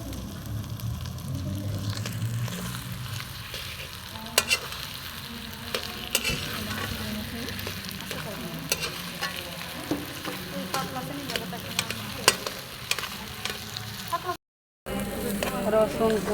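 Chopped garlic, ginger, green chilli, biryani masala and other spices fry in hot oil with a steady sizzle, while a spatula scrapes and clinks against the pan in irregular strokes, close and continuous.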